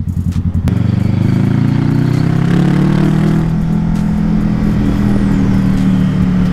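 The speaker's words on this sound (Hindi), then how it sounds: "तो हल्का सा तो मैं थ्रोटल करता हूँ" A 2019 Kawasaki motorcycle, a model below the 1000cc bike, idles loud and close with a lumpy rhythmic beat, then is lightly throttled into a rising, sustained growl that settles back down, with no talk over it.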